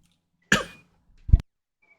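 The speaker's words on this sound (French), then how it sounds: "vous m'avez entendu tousser, je suis désolé" A man gives one sharp, raspy cough, then after a short pause a lower, throaty second cough, both close and loud against near silence.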